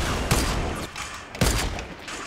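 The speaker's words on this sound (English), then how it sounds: "That's a sniper hit." Sniper rifle fire in Fortnite gameplay, two sharp, loud gunshot cracks about a second apart, each followed by a brief decay over constant background game noise.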